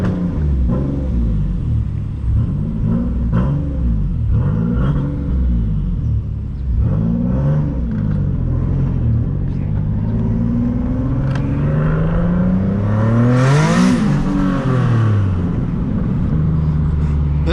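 A turbocharged Nissan VQ engine roars and revs repeatedly on low boost in rising and falling sweeps, loud and close, building to a higher-pitched surge near the end.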